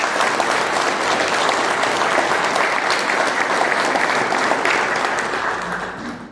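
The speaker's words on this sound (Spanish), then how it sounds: "Pido un fuerte aplauso para ella." A conference hall audience at a law event gives sustained, loud applause, a thick continuous roar of clapping that holds steady and then fades toward the close.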